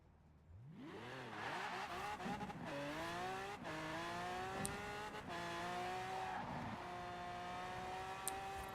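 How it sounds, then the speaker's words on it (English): Lamborghini Aventador FE in the Forza racing video game revving up through gears, engine pitch sweeping upward repeatedly with shifts, sustained and fairly close, no voices. "we are at a place where we can unleash an Aventador FE"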